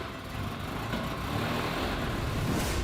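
A Ferrari 360 Spider, rebuilt after sitting abandoned with milky engine oil, idles after being started, a steady low engine rumble with a broad roar that grows slightly louder toward the end, close by and with no voices.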